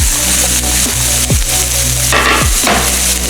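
Onion sizzles loudly and steadily in a hot electric skillet while cooking for shrimp fried rice, with a constant dense crackle. A few soft scraping stirs cut across it, and no one speaks.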